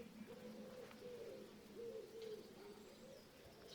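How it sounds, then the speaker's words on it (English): A wood pigeon cooing overhead outdoors, a soft repeated rhythmic series of low hooting coos over quiet background ambience, moderately distant and without talk. "We're speaking of wood pigeons."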